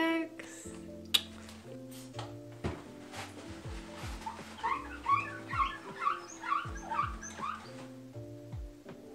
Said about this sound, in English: Sounds like somebody's dog.